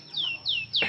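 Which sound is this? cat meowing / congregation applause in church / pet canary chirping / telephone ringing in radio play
pet canary chirping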